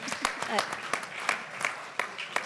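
Audience at a volunteering talk applauds, with a brief sparse patter of separate claps and a voice speaking over them.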